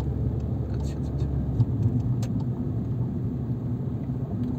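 During a driving lesson, a car engine gives a steady low rumble close by, with a voice talking over it throughout.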